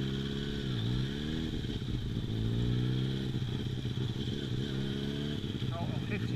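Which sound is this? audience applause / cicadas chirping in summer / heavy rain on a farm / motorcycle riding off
motorcycle riding off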